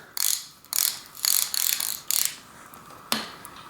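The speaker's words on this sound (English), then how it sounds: "I've got my 24mm socket on here, and I'll use this to tighten it in" A ratchet with a 24mm socket clicks in short bursts as it tightens a plastic fork cap on a RockShox Metro suspension fork, giving about six quick ratcheting strokes and then one final sharp click, close and clear.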